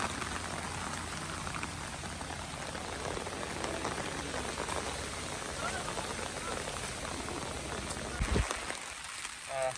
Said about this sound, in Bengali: বৃষ্টি কিন্তু এখনো হচ্ছে